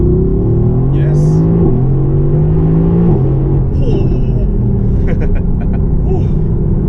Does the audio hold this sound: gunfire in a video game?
no